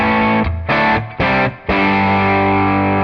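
Heavily distorted electric guitar chords through an overdriven amp modeled in Tonex with bass, middle and treble turned fully up, a few short stabs then a long sustained chord, loud and saturated.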